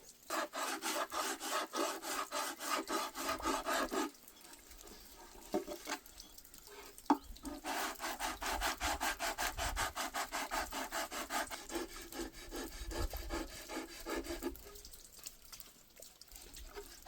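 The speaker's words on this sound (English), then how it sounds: "Get this nose block planed down." Hand plane shaving down the wooden nose block of a Zippkits JAE model airplane outdoors, rapid repeated scraping strokes in long rhythmic runs with a few short pauses, close and steady.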